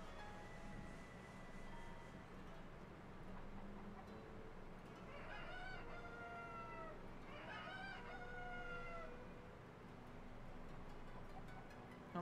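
Chickens cluck in Zelda: Tears of the Kingdom, with two short bursts of clucking calls over a constant low game background hum, fairly quiet overall.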